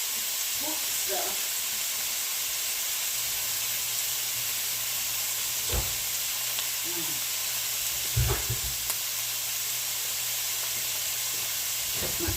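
Pork searing in a hot pan, a steady loud frying sizzle and hiss that runs throughout, with a few soft clinks and knocks of cookware over it.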